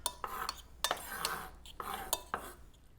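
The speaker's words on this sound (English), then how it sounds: "you want to give that a little stir there" A spoon stirring diced onion through a white bean tuna salad in a bowl, with soft repeated scrapes and light clinks of utensil against dish, fairly quiet and close.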